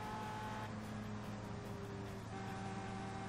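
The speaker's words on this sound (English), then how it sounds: "As you can hear, another car coming up behind me." An Indy race car engine in the Indianapolis 500 Evolution video game drones steadily at close range, its tone holding a sustained hum as another car's engine rises behind it.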